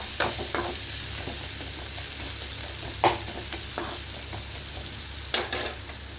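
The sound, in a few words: onion sautéing in pan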